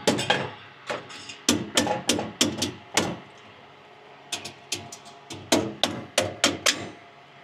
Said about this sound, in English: Small help of plastic hammer, it will go.